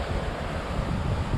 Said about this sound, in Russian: Волна слишком частая, то есть она не длинная,